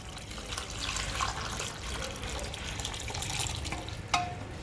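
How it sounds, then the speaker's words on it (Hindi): Cooking water from boiled onion and tomato is strained through a strainer, a faint steady pour and trickle of liquid with a brief sharp metallic clink near the end. "ये सारे पानी को हम स्टेन करेंगे।"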